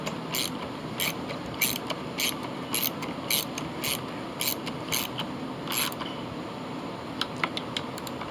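A ratchet tightens bolts on a Homelite AP125 water pump, giving bursts of quick mechanical clicks in an uneven rhythm, close up and moderately loud, with no talking.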